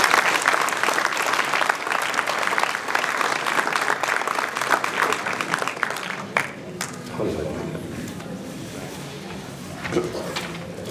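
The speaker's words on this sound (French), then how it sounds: "Je voudrais que vous les applaudissiez." An audience at a mayor's New Year's wishes ceremony in Prats-de-Mollo-la-Preste applauds municipal staff, steady dense clapping for about six seconds that thins out and fades, with some voices mixed in.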